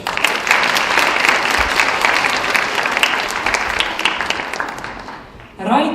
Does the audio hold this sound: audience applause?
yes